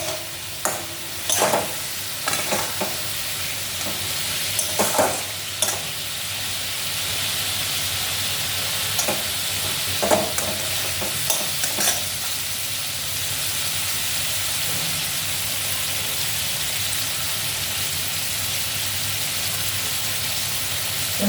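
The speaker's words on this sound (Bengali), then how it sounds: "এটার সঙ্গে মিশিয়ে ভালো করে কষিয়ে নেব।" Pointed gourd (potol) curry is stir-fried and mixed in a pan, with a constant loud sizzle and hiss of frying and clusters of scraping, stirring knocks during the first half that thin out later. The sound is close and has no voices.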